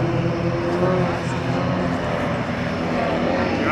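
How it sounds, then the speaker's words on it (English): A Yak-52 aerobatic plane flies a barrel roll at a Waddington air show, its propeller engine giving a continuous, fairly loud drone with a voice commentating over it. "And what they're now going to do is a barrel roll."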